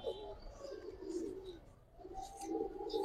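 A large female pigeon coos softly in a few low, rolling phrases close by, with quiet background and no talk.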